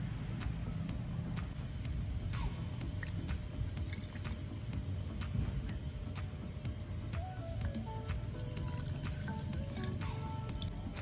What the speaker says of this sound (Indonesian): Lalu kita tambahkan air secukupnya hingga tanahnya tenggelam.